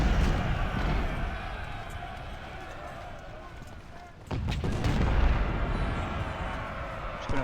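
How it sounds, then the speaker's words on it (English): Cannon artillery booms in the Civil War strategy game Ultimate General, a heavy low blast partway through that rises out of a constant battlefield rumble. "And there's the cannons."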